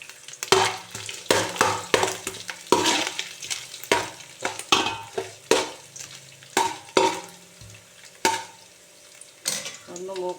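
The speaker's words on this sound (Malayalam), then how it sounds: "ഞാനിപ്പോൾ തേങ്ങ കൊത്ത് വറുത്തെടുക്കാം." Chopped coconut pieces fry in ghee for a sweet dal payasam while a spoon stirs the pan, giving a steady sizzle broken by repeated sharp scraping strokes, close and clear, with no one talking.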